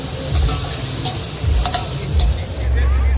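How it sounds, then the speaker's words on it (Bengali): Fresh mutton sizzles loudly in a kadai with green chili and garlic at an outdoor hillside picnic, a steady frying hiss broken by repeated scraping stirs. "এই যে ফ্রেশ মটন এখন দিয়ে দেওয়া হচ্ছে কড়াইয়ের মধ্যে।"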